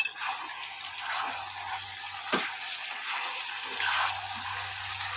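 Water poured into potato curry frying in a pan, a close rushing hiss over the sizzle of oil that carries on throughout with a few small clicks and no speech.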